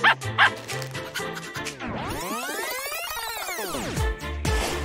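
A dog gives two quick, loud barks at the start, followed by a long sweeping, warbling sound effect that rises and falls before settling into a busy backdrop.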